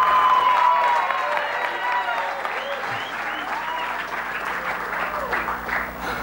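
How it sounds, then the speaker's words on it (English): An audience at an MIT event bursts into sustained applause with cheering, dense clapping filling the room steadily throughout. "the crowd goes absolutely wild"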